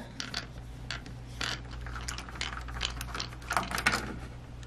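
Plastic clicks and ratcheting snaps from taking apart the lower bracket of an AMD AM4 CPU socket during Corsair liquid cooler installation, a quick cluster of close, fairly soft mechanical clicks over low hum.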